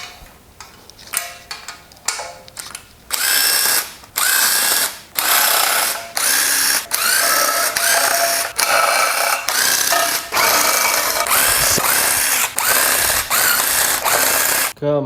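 A power tool, likely an impact or drill driver, runs in repeated loud bursts with short pauses between them. It is removing cam and head bolts from a BMW M52B30 stroker race engine, and there is no talk.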